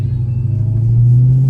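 A Dodge Hellcat Redeye on catless mid-pipes idles with a deep, loud rumble up close, then swells into a steady, heavier drone as the revs climb slightly.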